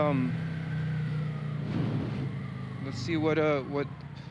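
A Kawasaki Vulcan 900 Classic motorcycle rides out onto the highway with a steady low engine drone throughout, while a rider talks over it near the start and again near the end.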